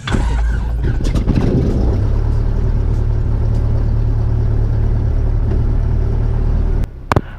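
A Cessna propeller airplane engine runs at a steady, loud drone with a deep throbbing rumble, continuing evenly before cutting off abruptly near the end.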